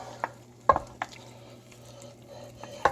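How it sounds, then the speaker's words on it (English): Chili scraped from a pan into a pot of beans for white chili, with a few close, sharp metallic scrapes and clanks of a utensil against cookware spaced irregularly over a low background hum. "taking a minute to scrape everything out"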